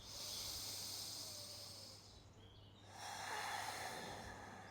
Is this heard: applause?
no